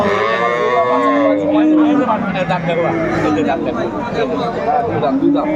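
Cattle, including dairy cows and calves, moo repeatedly at a livestock market, long drawn-out calls overlapping amid a busy crowd of people talking nearby.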